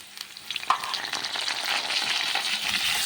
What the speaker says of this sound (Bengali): আলুগুলো একটু ভাজা হোক তিন চার মিনিট মতন